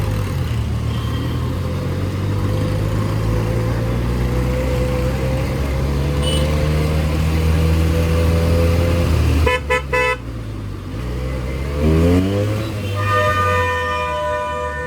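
A Benelli 300 motorcycle with a drained battery sounds its horn in two short toots over a loud, steady rumble of engine and road noise nearby.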